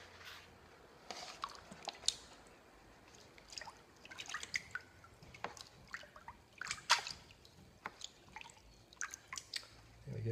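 Water rinses grey slurry from a water sharpening stone: irregular close-up drips, trickles and small splashes that come and go throughout, with no talking.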